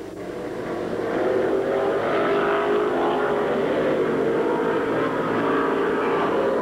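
Race cars on the final lap, engines roaring loud and steady as a car pushes for the inside of car 77, a close and continuous rush of sound with no talk.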